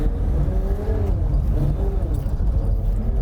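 Rear-wheel-drive car driving uphill on snow and ice while struggling for traction, a loud close low engine drone that rises and falls steadily throughout.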